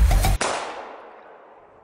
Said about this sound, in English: Wait, was that a gunshot?